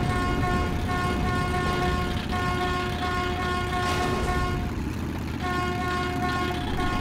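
In the video game Metro 2033 Redux, a vehicle horn honks loudly and continuously for several seconds with a brief dip near the end before the tone returns, all close and prominent.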